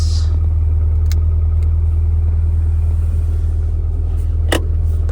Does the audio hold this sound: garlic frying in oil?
no